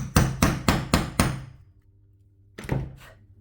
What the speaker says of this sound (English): So that hammers it down nice and tight, and that's going to hold that securely in place.